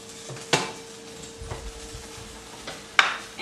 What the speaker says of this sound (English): And just stir to combine.